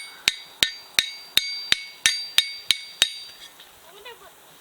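Blacksmith's hammer striking hot metal on an anvil at a forge, nine sharp ringing metallic blows in a steady rhythm, close and loud, then fading into faint ringing and quiet room noise.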